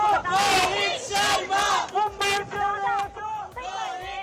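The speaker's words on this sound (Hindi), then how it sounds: "लोग जो है वो लगातार यहाँ पर चीखते चिल्लाते नाचते गाते जो है वो नजर आ रहे हैं" A large crowd cheers, whoops and yells in rhythmic surging bursts at the Indian cricket team's World Cup victory parade on Marine Drive in Mumbai, voices chanting loudly together at close range.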